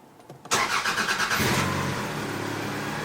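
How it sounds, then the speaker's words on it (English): A Toyota Camry engine cranks briefly and catches, then settles into a steady, loud idle close by, with no talking over it. "I'll start the car."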